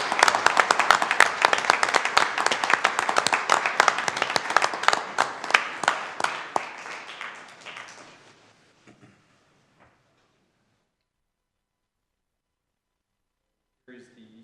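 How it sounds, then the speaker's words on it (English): City council meeting audience gives a round of applause for a police chief, brisk clapping for about eight seconds that tapers into a few scattered claps, then silence before a brief voice. "We give a round of applause for him."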